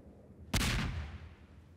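A single sharp video-game explosion, from Garry's Mod Trouble in Terrorist Town, bursts out and rumbles away over about a second, loud and booming against a quiet background.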